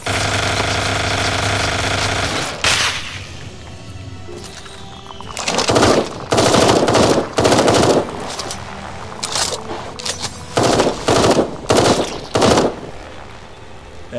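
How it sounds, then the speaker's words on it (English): Upgraded Gauss cannon firing in the Eden Star video game: a burst of loud, heavy bursts in a broken rhythm, about eight separate blasts following an opening mechanical drone, close and alone with no talk. "It's so much easier to kill these things with the Gauss cannon."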